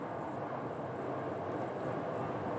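Steady broadband roar of a Southwest airliner landing at Phoenix Sky Harbor Airport, a continuous distant jet engine wash holding at an even level with no voices.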